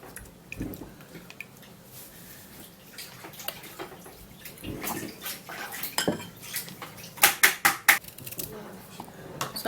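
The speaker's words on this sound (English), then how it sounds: "Now I'm just going to be sieving this out." Cucumber juice is sieved in a kitchen, with soft liquid trickles and squishes broken by sharp clinks of metal utensils against a bowl, growing louder and more clattery toward the end.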